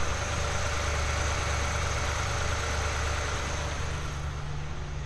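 A BMW's engine idles after repair, a steady low rumble with an even hum that stays constant and close, with no talking over it.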